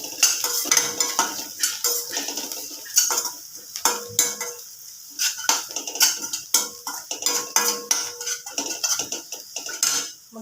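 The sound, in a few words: masala being sautéed in oil in a pan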